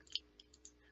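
Mouse clicks while stepping frame by frame through video footage, a few soft, sharp, close clicks spaced irregularly over quiet room tone.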